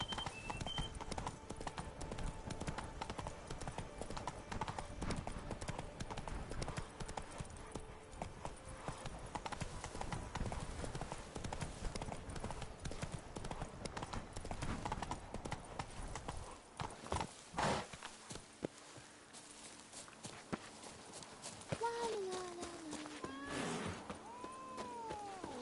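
Geralt's horse Roach trots along in The Witcher 3, steady close hoof clops in a brisk rhythm for much of the stretch, then slowing to scattered steps with a brief snort or whinny near the end.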